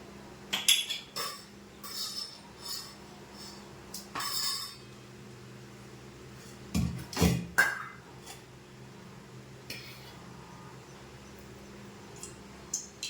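Metal pan and utensil clinks on a lit stove as oil is poured in for cooking, a scattering of sharp separate knocks and clatters with quiet gaps between them, fairly close, no speech.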